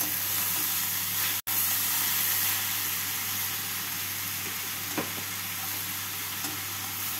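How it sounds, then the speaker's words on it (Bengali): Snake gourd frying in a pan with salt, turmeric and green chillies for a poppy-seed dish, giving a steady close sizzle throughout, with one brief dropout partway and a faint scrape near the end. "এবারে নুন আর হলুদ আর কাঁচা লঙ্কা দিয়ে চিচিঙ্গাটাকে ভালো করে ভেজে নিতে হবে।"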